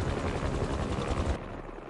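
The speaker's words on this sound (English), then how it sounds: "helicopter's blades" Helicopter rotor blades in the Spider-Man 2 video game chop in a fast, loud, rhythmic pulse with a deep low-frequency thump, then drop to a quieter rumble near the end.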